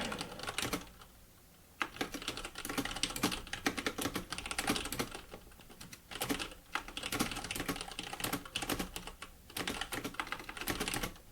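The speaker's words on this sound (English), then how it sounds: "Let me just start typing in some details here." Steady keyboard typing, a fast run of clicking keystrokes with a short pause, then bursts of tapping resuming close by.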